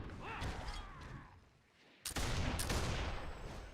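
Mortar fire in the Warhammer Online game during a dwarf battle, a loud sustained blast of booming explosive noise that dips briefly then slams back in with a sharp crack and continues roaring.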